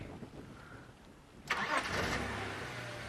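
A safari vehicle's engine cranks and catches about halfway through after a quiet stretch, then settles into a steady idle close by, with no talking.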